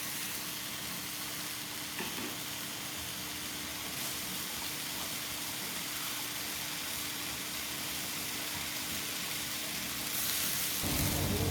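Beef and onion stir-frying with dark soy sauce in a hot pan, a continuous even sizzle that swells slightly louder near the end, with no talking.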